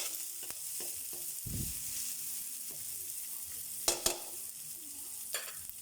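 Onion sizzles in hot oil with garlic in a pan, a steady quiet frying hiss broken by a soft thump and a couple of sharp utensil clinks.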